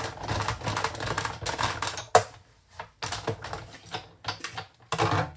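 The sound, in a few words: card run through a die-cutting machine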